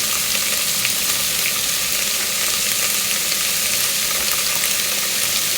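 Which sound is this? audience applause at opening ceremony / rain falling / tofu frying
tofu frying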